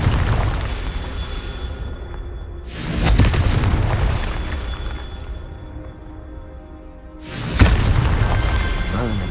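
Two loud, booming fiery explosions from the Confringo spell in the Hogwarts Legacy video game, each a sudden burst that rumbles out over a constant background of game noise.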